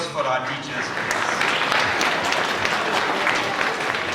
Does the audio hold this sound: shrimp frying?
no